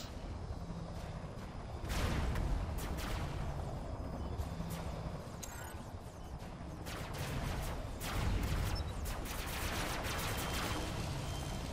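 Gunfire in the video game Robocraft, with rapid bursts of shots and heavy blasts over a rumbling battle background, moderately loud and continuous with no voices.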